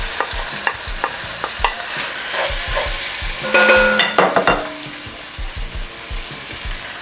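Garlic sautés in a pan with a steady, bright sizzle, broken by soft rhythmic taps of stirring and a louder scraping flurry partway through.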